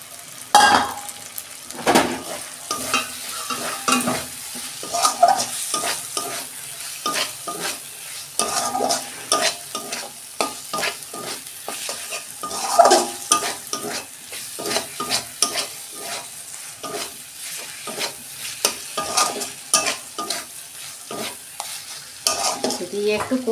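Prawns sauté in a pan with a soft frying sizzle while a utensil scrapes and stirs them repeatedly, giving an irregular series of close scraping strokes, with no voices.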